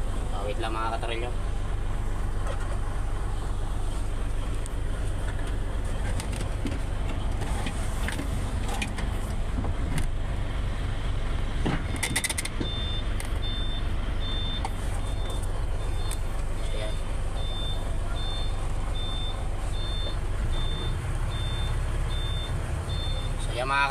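A Mitsubishi Super Great ten-wheeler truck runs loud and close after a brake adjustment, its engine droning steadily while a reversing beeper chirps repeatedly through the second half and someone talks over it.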